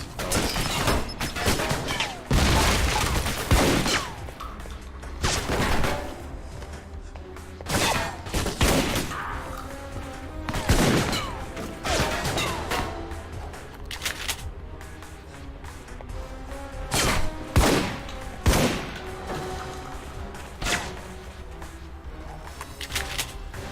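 Gunfire in the video game Alpha Protocol, repeated heavy bursts and loud impacts spaced irregularly over a continuous noisy background, close and loud throughout.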